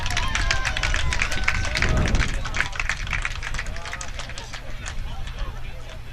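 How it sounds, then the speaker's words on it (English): Applause from spectators at a lawn bowls match, a dense patter of clapping heard from a short distance over steady outdoor background noise. "Don't know if you heard the applause"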